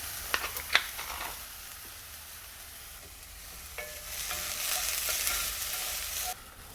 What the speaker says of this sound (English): we're gonna brown these onions